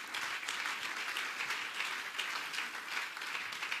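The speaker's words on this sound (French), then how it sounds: "Can you clap for him?" An audience at a French-language church service claps steadily, a dense, even wash of applause that holds throughout without pausing.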